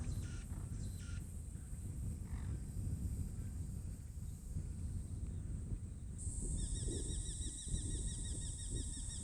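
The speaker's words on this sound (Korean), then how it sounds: "침입자를 물리치고 의기양양하게 소리를 지르며 돌아오는 녀석, 새홀리기입니다." A Eurasian hobby, a small falcon at its breeding site, gives a rapid series of repeated sharp calls after earlier scattered bird notes, heard against a constant rushing outdoor background.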